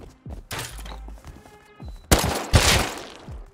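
Gunfire in the survival video game Rust, a few loud sharp shots with heavy thuds and a burst near the end, alone without talk.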